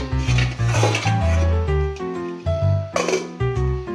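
A metal lid clanks and scrapes onto a cooking pot of bananas, a run of loud, close clinks and rattles of pot and lid.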